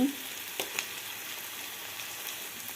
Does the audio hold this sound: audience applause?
no